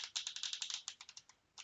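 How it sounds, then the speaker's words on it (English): A deck of Lenormand cards being riffle shuffled, a rapid close burst of crisp fluttering card flicks that slows and ends with a final snap. "Let's just give them a wee shuffle just now."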